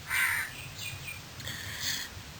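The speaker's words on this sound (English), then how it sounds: "Crow is a morning bird." Crow cawing in a few harsh calls, three or four short bursts close by and fairly clear against a quiet outdoor background, with no talk.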